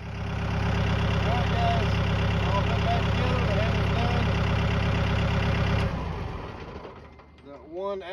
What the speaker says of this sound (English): I'll pause the video and start tractor up when you see it in action